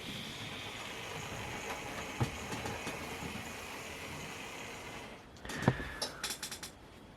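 A Hornby GWR 14XX model tank engine runs on a home layout track, giving a faint, steady motor whir with light rail clicks, then a louder burst of rattling and clicks near the end.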